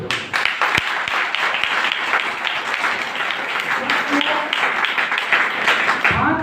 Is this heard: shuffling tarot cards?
no